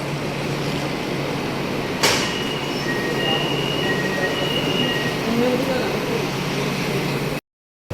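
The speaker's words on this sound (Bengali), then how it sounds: "ওভার ব্রিজের উপর দিয়ে এই ট্রেনগুলো চলে।" An elevated train runs over a bridge in Kuala Lumpur, a steady loud rumble of wheels on rails with a sharp clank near the start and faint squeals, with voices faintly mixed underneath.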